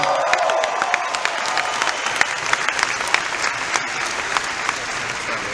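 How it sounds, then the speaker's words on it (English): A live crowd at a motivational seminar breaks into steady applause, dense clapping with a few cheers, sustained and fairly loud throughout. "Give yourselves a round of applause for sharing that."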